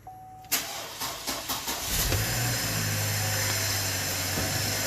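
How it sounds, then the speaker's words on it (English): A 2007 Chevy Trailblazer with weak engine cranking turns over with several rapid cranking pulses, then catches and settles into a steady, close, loud engine run. "So now what I'm going to do is go ahead and start it."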